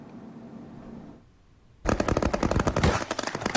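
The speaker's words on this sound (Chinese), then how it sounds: "现场炮声隆隆" Artillery and gunfire at a live-fire military exercise by the Army's Kinmen Defense Command, with armored vehicles and various guns: after a quiet stretch, loud, dense rapid bursts of firing erupt and continue without pause, close and sharp.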